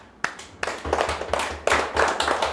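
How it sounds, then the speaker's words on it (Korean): A classroom of students claps in a series of sharp, irregular bursts that grow denser and louder, close and ragged, with no voices over them. "자, 박수."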